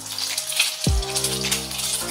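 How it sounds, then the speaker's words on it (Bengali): An egg fries in hot oil in a pan, giving a steady bright sizzle with a low thump partway through, close and fairly loud. "এখন ডিমটা ভাজা চলছে ফ্রেন্ডস"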